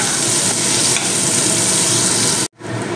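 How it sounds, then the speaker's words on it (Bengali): Chopped onions frying in hot oil for a prawn malai curry, a dense, loud, steady sizzle that cuts out abruptly near the end and then resumes more softly. "এবার আমি দিয়ে দেব কেটে রাখা একটু পেঁয়াজ"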